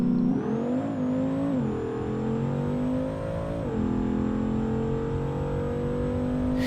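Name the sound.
drag car with nitrous accelerating, BeamNG video game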